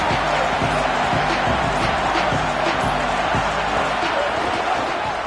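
Stadium crowd noise in an NCAA football video game with Ole Miss, a loud continuous roar with faint thumping and clapping textures underneath.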